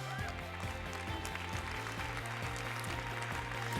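An audience at a FIFA women's football convention applauds a speaker being introduced, the clapping running steadily under loud, pulsing music with a heavy rhythmic beat.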